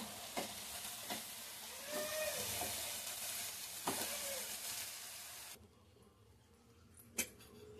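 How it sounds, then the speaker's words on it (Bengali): Fried rice with ghee and fried masala stirred in a pan, a steady sizzle with scraping stirs for several seconds before the frying noise drops away, leaving a faint hiss and one sharp clink. "সুন্দর করে মিক্স করে নিয়েছি"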